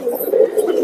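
Pet pigeons cooing up close, a soft, low, throaty burbling that rises and falls continuously through a short moment with no other sounds.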